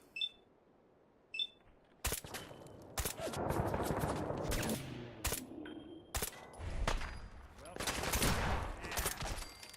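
Gunfire in Fallout 4: sharp shots start after two seconds, then come in rapid volleys and bursts, loud and close, with quieter gaps between flurries and faint talk underneath.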